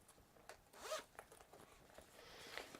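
A zipper pull on a sewn fabric pouch rasps in a few quick, close strokes, with one louder zip near the start and a softer pull toward the end, no voices over it.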